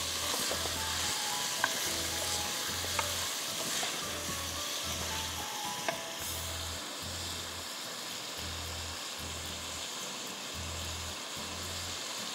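Mixed vegetables for achar fry in a pan, a steady hiss of sizzling oil that runs continuously at moderate volume, with a few faint clicks of a utensil and no voices.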